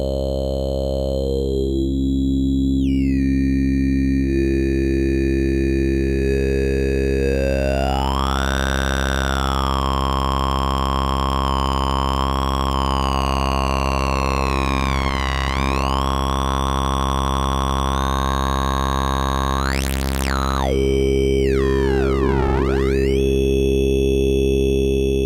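Sustained Roland analog VCO sawtooth wave under filter FM, the tone sweeping and warbling in vocal, siren-like glides with rich harmonics, loud and continuous for the whole stretch with no talking.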